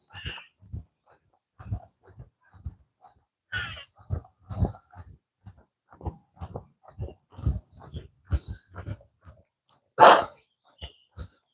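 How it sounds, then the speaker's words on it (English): A dog barks repeatedly at close range in short, uneven bursts, with some huffing breaths between; one sharper, louder bark near the end. "Good morning, Doggy. How you doing this morning?"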